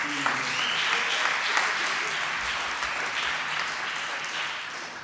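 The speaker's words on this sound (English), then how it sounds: "you deserve a round of applause for being here" A lecture audience applauds steadily for about five seconds, a dense wash of clapping that fades slightly toward the end.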